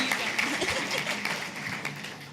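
Delegates at a model UN conference clap after a speech, a dense, even burst of applause filling the hall, with faint voices mixed in beneath.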